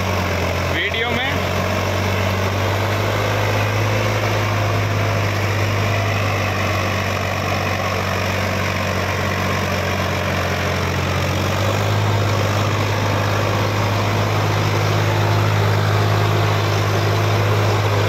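A Sonalika Sikander tractor engine runs loud and steady throughout, a low, throbbing idle with constant vibration, close by.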